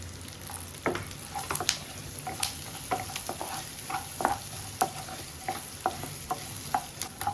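Food sizzling and crackling in a hot pan while frying ingredients for puli keerai (sorrel leaf) pachadi, with sharp scraping stirs now and then, close and steady, no voices.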